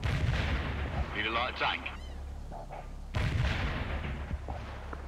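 Medium artillery firing in the World in Conflict game: deep booming shots and low rumble with a sharp burst near the three-second mark, under a unit voice speaking briefly.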